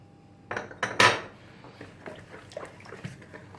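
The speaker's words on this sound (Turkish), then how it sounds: "tuzumuzu, şekerimizi ve yumurta aklarımızı koyup güzelce karıştırıyoruz." A utensil clanks sharply against a bowl three times, then softer scraping and tapping follow while salt, sugar, yeast and egg whites are stirred together, close up with no talking.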